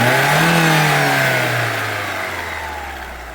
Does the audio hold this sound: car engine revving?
yes